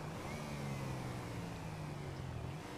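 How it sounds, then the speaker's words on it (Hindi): A car engine in GTA 5 hums steadily from behind, a mid-pitched motor drone with a faint rising rev, holding at a constant loudness throughout with no talk. "तो ये मुझे माइकल की गाड़ी लग रही है, ये जो पीछे आ रही है।"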